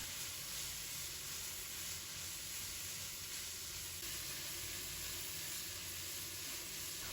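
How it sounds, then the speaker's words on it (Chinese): Noodles stir-fried in a wok with cabbage, carrot and shiitake mushrooms give a faint, even sizzle and hiss that holds steady for the whole stretch, with no voices. "继续翻炒均匀"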